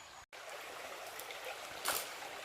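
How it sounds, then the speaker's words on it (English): Soft running water in a shallow Somerset stream trickles and burbles steadily at low volume, close by, with a brief gap early and a slightly brighter splash near the end. "So here we are, some lovely soft running water"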